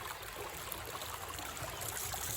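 Steady, soft river water flows and trickles in a continuous hiss, with no voices over it.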